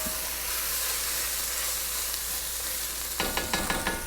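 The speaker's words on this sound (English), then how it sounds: "Just going to stir that around a little bit until it becomes fragrant" Aromatics for a West African peanut soup sizzle steadily in a pot on reduced heat, a constant close hiss, with a few scraping stirs of a utensil near the end.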